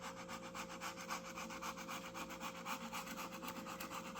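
Steady back-and-forth rasping of a sanding stick on wood, sanding a model sailing pram's bilge keels, a quick regular rhythm of strokes, close and fairly quiet, with no talking.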